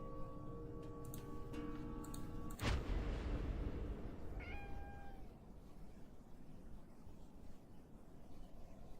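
A cat meows in the Conarium video game, a sudden sharp thud followed by a short, clear, nearby meow rising over a faint ticking and eerie ambient drone.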